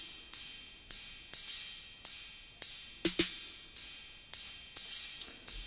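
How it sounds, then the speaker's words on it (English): Basic snare drum rhythm pattern played on a Roland JD-Xi synthesizer for a Persuaders TV theme recreation: crisp, evenly spaced snare hits with quick decays, about a dozen strikes including a tight double hit midway, alone and clear. "So that's the very sort of basic rhythm pattern that's going on there in the background."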